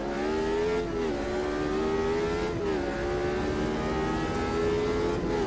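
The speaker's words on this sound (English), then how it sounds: "the unmistakable sound of a Cosworth DFE" Cosworth DFE engine of a Brabham BT46 racing car in Automobilista 2 screams steadily at high revs, with brief pitch dips at gear shifts and lifts, loud and close throughout.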